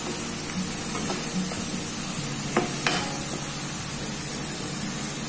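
Banana pieces sizzle steadily in a frying pan while a utensil stirs them, with a few sharp scrapes and clicks over the constant hiss.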